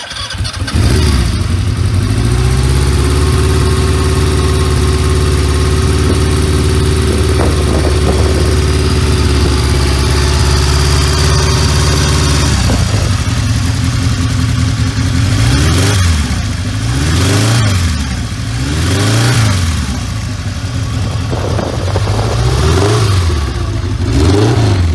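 Laverda Jota 1000 three-cylinder motorcycle with a 180-degree crankshaft, its engine idling with a steady loud drone, then revving repeatedly in rising and falling bursts, close and alone without voices.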